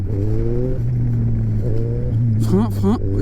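Motorcycle engine held in a wheelie in second gear, revving up through a shift into third and dipping in short stabs under braking, loud and close, with a voice talking over it.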